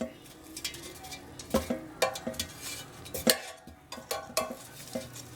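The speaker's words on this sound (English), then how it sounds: "So now it's time to flip these over because you want to make sure both sides get crispy." Chicken wings are flipped in a Cook's Essentials 3-quart air fryer basket, giving a series of sharp clinks and clatters of tongs against metal, fairly quiet with scattered irregular knocks.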